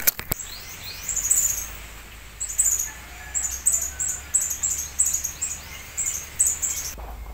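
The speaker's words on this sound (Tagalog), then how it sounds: "Ang daming mga ibon mga kuys," Many wild birds calling in the open during a bird hunt, repeated bright chirps and tweets coming in bursts over several seconds above a steady low rumble, with no talking.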